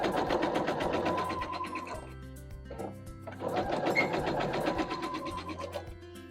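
Sewing machine running fast, stitching quilt fabric for a mushroom quilt block, a close rapid mechanical clatter in two long runs separated by a short pause.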